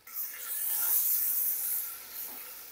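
Beef frying with salt in a pot for Bannu beef pulao gives a soft, airy hiss that swells and fades gently, fairly quiet and close.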